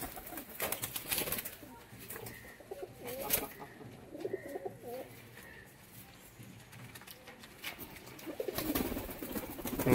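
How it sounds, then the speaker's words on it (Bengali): Domestic pigeons at a home loft in Taherpur, West Bengal, soft cooing repeating from several birds nearby, with a few chirps and a voice faintly in the background. "দেখুন প্রত্যেকটা পায়রা এদিক ওদিক ঘোরাঘুরি করছে"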